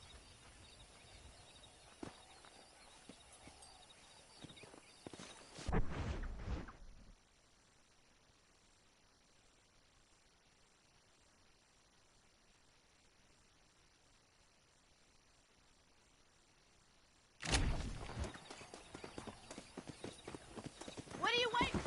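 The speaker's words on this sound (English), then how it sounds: "Let's see if we can't wrangle some horses." Horses in the video game Red Dead Redemption 2 clip-clop and neigh, loud bursts of hooves and game sound at the start and again near the end, with a long quiet stretch between.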